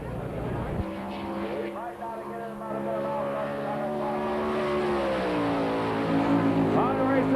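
Sprint car running on the high-banked dirt oval, engine roaring steadily with harmonic whine throughout, while an announcer talks over it.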